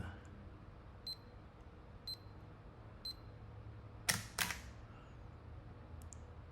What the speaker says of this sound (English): You can hear it. The shutter going off again.